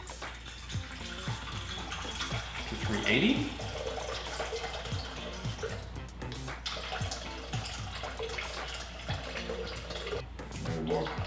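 Water pours and splashes into a mixing bowl at moderate distance, with a brief bubbling rush, while a person talks quietly over it, starting a rye bread dough.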